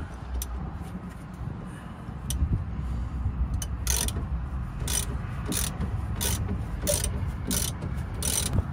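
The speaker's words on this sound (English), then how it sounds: "I'm just going to try and unbolt this from the inside, because I don't think it's going to go round that pulley." A ratchet clicks in short repeated bursts while a part is unbolted on a combine harvester near a pulley, sounding close over low background rumble, with no talk.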